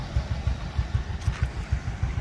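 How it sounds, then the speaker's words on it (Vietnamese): A motorcycle with a loud steel exhaust idles, its low engine thumping in a fast steady pulse, close and fairly loud, with no talking. "tiếng bô nổ nghe phê lắm"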